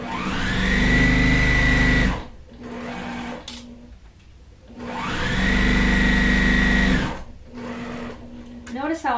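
A sewing machine stitches pinned purple quilt pieces for a Churn Dash block, running in two steady bursts of several seconds each with a quiet pause between, close and loud, ending with a brief voice.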